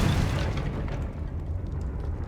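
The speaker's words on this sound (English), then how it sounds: "Confringo." A Confringo spell explosion from a Harry Potter video game, a single loud, booming blast that rumbles and decays over a couple of seconds.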